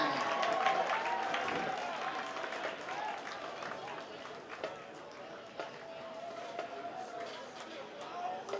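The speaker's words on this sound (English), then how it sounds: "how about a great round of applause for the Hawaiian Pride Marching Band" Crowd at a high school football game applauds the Hawaiian Pride Marching Band, sustained clapping and cheering from the stands with scattered louder claps, under distant voices.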